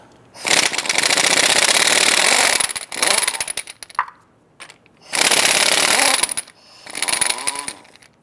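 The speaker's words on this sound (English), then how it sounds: "Using our 7/8 socket, we're going to head loosen and remove our lug nuts" Lug nuts on the front wheel of a 2002-2008 Dodge Ram 1500 being loosened and removed with a 7/8 socket on an impact wrench, in loud close bursts of buzzing hammering separated by short pauses.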